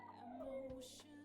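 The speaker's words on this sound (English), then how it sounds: "sorry if you can hear my dogs crying downstairs." Dogs whining and crying from downstairs in a house, a faint, distant drawn-out whimpering whine that slides downward, with a brief yelp near the end, heard alone under a low room hum.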